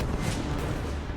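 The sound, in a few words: cannon artillery fire in a Battle of Marengo documentary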